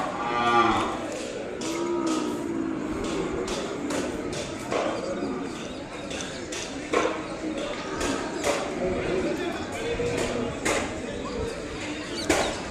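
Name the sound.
calves at a cattle market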